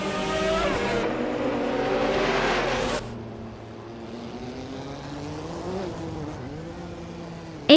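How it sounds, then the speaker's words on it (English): A 2015 Lamborghini Huracan GT3 race car in a racing video game, its engine revving loud and high at first, then settling into a lower steady drone with no talk. "T is driving a 2015 Lamborghini Huracan GT3"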